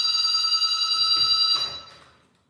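A phone rings with a bright, electronic tone that sounds steadily and close, then fades out in a soft decay, with a faint rustle beneath and no speech.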